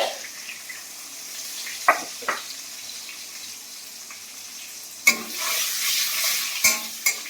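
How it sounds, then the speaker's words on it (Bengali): Dried red chillies and bay leaf frying in a pan with onions, stirred by a spoon that knocks the pan a few sharp times over a soft, steady sizzle that swells louder toward the end. "তার জন্য পেঁয়াজটা ভালো করে একটু ভেজে নিই। এর মধ্যে তেজপাতা দিয়ে দেবো,"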